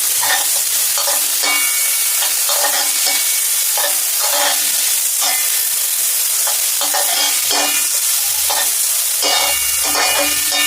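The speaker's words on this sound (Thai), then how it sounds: "แล้วก็ผัดพริกให้หอมก่อนนะคะ วั่วพริกให้หอมค่ะ" Chillies stir-fried in a little oil in a pan before squid goes in, a loud, continuous sizzle with repeated scraping stirs throughout, close up.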